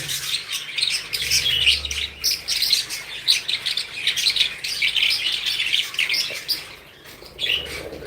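Harsh, shrill calls from a pet bird repeat almost continuously close by, overlapping one another with only brief pauses.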